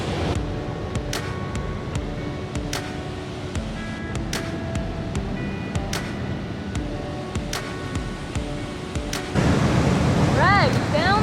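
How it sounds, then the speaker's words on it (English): Rapids rushing near a small falls on Manitoulin Island, a constant close roar of water with scattered clicks and insect-like chirps, louder toward the end. "it's not really a waterfall, it's more like a set of rapids"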